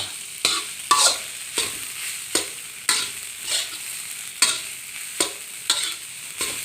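Egg fried rice with pork sausage is stir-fried in a pan, sizzling steadily under repeated sharp scrapes and clanks of the spatula at a regular rhythm, close and with no talking.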